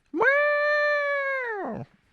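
A voice imitates a long sustained horn intro note, one loud steady tone of about a second and a half that comes out sounding like a cat's meow, alone without talk.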